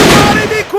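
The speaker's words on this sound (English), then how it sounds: "that sounds pretty much like the suppressive fire worked" Suppressive gunfire in the WWII strategy game Battle Academy forms one loud, dense burst of shots and rumbling impacts that decays over under a second.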